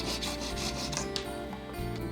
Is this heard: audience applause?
no